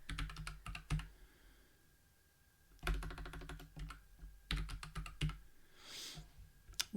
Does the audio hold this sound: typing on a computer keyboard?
yes